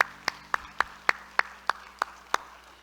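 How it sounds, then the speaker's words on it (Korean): Church congregation clapping in unison at a Sunday worship service, around ten sharp claps in a steady, even rhythm, moderately close with a low hum beneath. "우리 하나님께 영광을 박수합시다."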